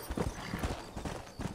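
Hooves clip-clop in a quick, uneven rhythm, a Red Dead Redemption horse trotting close by over a busy background.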